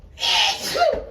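A single sharp sneeze bursts out, loud and close, followed by a brief breathy tail.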